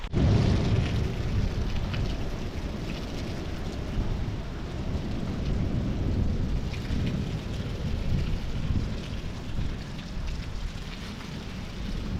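A thunderstorm over a village: heavy, steady rain pours without pause, with deep rumbling thunder rolling underneath throughout. No voices are heard.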